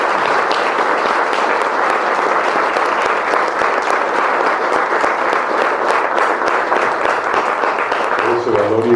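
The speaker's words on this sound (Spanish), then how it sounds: "les pido que le demos un aplauso a la maestra Hilda" Loud, sustained applause from a seated audience at a motivational talk, honoring teacher Hilda; many hands clap densely and evenly throughout, with a voice and faint tones surfacing at the very end.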